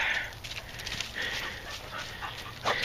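A dog patrols beside an outdoor fire pit in a winter garden, giving soft, close panting and snuffling over quiet background noise.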